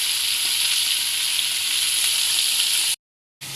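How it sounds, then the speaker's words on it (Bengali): Fish pieces fry in a pan of hot oil with a loud, even hiss and crackle that holds steady, cuts to brief silence, then resumes. "এখানে মাছগুলো এই যে ভাজতে দিয়েছি"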